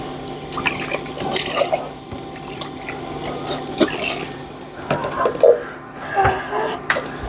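Liquid being poured while making spicy jalapeno pickle brine, with irregular splashing and dripping close by, trickling in bursts at moderate loudness.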